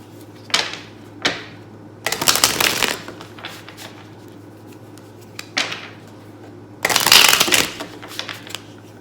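A tarot card deck is shuffled in several separate bursts: brief riffles at first, then two longer, loud crackling shuffles with quieter ruffling in between, close to the listener and over a low steady hum.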